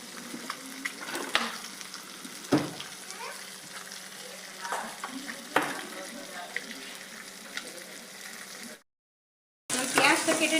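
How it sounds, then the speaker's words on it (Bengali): Pieces of rohu fish fry in hot oil in a pan, a continuous soft sizzle and crackle close by, broken by a few sharp clatters of utensils and a brief burst of louder spitting near the end. "যতক্ষণ মাছটা ফ্রাই হচ্ছে"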